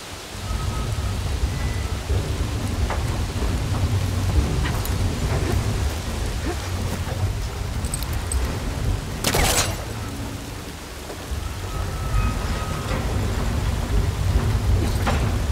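Rain and a thunderstorm in the video game Horizon Forbidden West: a steady downpour with low rumbling thunder throughout and a sharp, loud crack partway through, with no voices.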